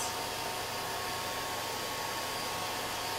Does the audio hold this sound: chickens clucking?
no